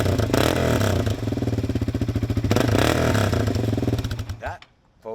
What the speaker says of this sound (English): the exhaust has been modified so it has a much better sound to it than it did stock. It's got a nice rumble.